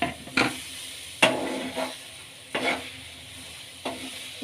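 Mango puree is stirred in a pan on the stove for a mango and coconut laddu made without ghee or oil, four spaced scraping strokes with a faint sizzle between them, close and with no talking.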